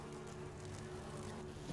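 Buzzing bees swarm around a hive in the Resident Evil video game, a steady continuous drone with no gaps across the whole short stretch.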